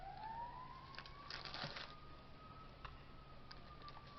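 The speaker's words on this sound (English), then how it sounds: "and a siren in the background." A siren wails faintly in the distance, its tone slowly rising and holding under a quiet background of light clicks and rustling.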